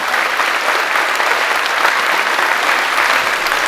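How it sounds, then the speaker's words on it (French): An audience at a stage show applauds the president, sustained loud applause from many hands filling the room evenly from start to finish. "vous pouvez l'applaudir très très fort"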